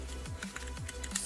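Soft rapid keystrokes on a computer keyboard while text is entered in a Windows Forms app, a quick irregular run of light clicks, fairly faint and close.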